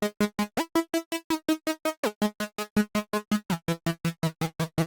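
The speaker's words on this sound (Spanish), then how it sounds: "repetimos los mismos pasos para hacer un vibrato, que es agarrar el LFO, linkearlo a tune" A bright reggaeton synth lead plays a fast run of short, evenly spaced staccato notes, each wobbling with quick LFO vibrato, loud and steady with no voices.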